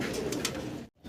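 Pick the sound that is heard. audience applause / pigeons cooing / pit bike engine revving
pigeons cooing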